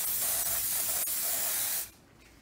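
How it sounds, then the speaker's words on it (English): A hair thickening spray product hisses in one steady burst from the can for nearly two seconds, close and loud, then cuts off abruptly into quiet room tone. "I would take the HairCubed product and I would spray it like this and apply it to my head."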